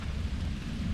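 Steady rain pours in Central Park, New York City, a dense even hiss with low rumble, continuous and fairly loud, no voices.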